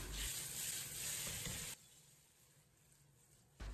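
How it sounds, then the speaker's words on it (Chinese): Tofu pan-fries in hot oil with star anise in a wok, giving a loud, steady sizzle that suddenly drops to a faint hiss midway, then surges back at the end. "先把豆腐煎至八面金黄"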